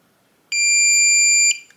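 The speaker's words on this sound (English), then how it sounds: "So once you hear that long beep," A Kwikset Powerbolt 240 door lock gives one long, loud electronic beep lasting about a second while being reset, followed by a short fainter blip.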